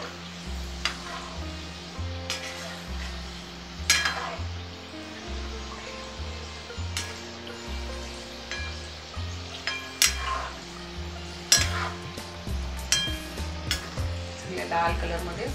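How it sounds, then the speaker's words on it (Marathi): Food fries in an old pan until it turns red, with a constant soft sizzle broken by irregular scraping and clattering as it is stirred, heard fairly close and at modest volume. "लाल कलर मध्ये ते करून घ्यायचं व्यवस्थित तळून."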